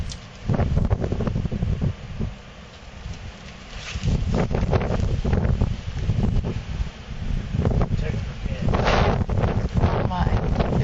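Strong blizzard wind buffets the microphone outdoors in heavy gusts, roaring and rumbling unevenly for several seconds while bursts of rustling noise come and go.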